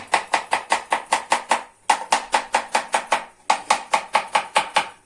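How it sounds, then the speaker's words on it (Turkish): Rapid, even knife strokes chopping green herbs on a cutting board for a Hatay çökelek salad, about four per second, in three bursts with short pauses between them. "Şimdi güzelce yeşillerimizi doğrayalım."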